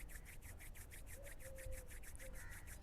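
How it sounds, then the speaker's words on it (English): Palms rubbed together at the close of a yoga session, a faint, soft rhythmic swishing repeating quickly and evenly at close range, with a brief low hum under it. "And now just rubbing your palms together"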